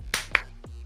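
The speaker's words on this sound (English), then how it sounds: "Everybody clapped." A team claps together in unison right after breaking a huddle, two sharp, close claps in quick succession followed by a brief faint tail.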